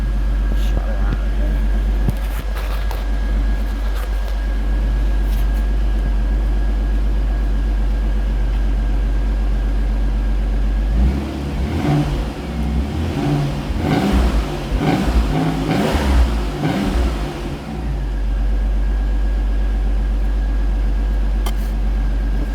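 A 1990 Beretta Indy with the 3.1 engine idles steadily with a low exhaust growl, then revs up in several blips over a few seconds before settling back to idle, recorded close by.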